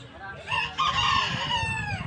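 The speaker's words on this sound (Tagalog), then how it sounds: "Mayroong mga ibon din mga kapartner." Birds call loudly nearby, a rooster-like crowing cry rising over a background of clucking and faint murmuring.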